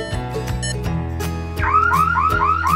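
A button press sets off an emergency alarm: a few electronic beeps, then loud repeating rising-and-falling siren sweeps close by.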